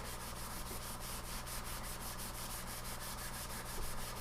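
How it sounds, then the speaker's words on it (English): A green Scotch-Brite pad rubbed in crosshatch strokes over a motorcycle fork tube, a continuous close, dense scuffing hiss with a quick repeating back-and-forth rhythm and no pauses. "You're just trying to scuff that surface up so it'll hold some oil instead of it being all nice and shiny."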